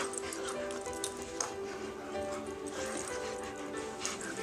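Puppies playing close by, with small yips, whimpers and scuffling sounds, while a person talks softly.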